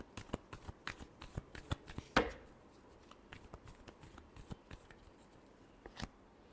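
Tarot cards shuffled by hand, a run of quick papery riffles and flicks with one louder burst partway through, close and fairly quiet with no talking.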